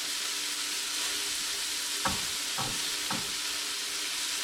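Razor clams fry in a little oil with a constant close sizzle, broken by three soft thuds as pieces are moved or flipped in the pan.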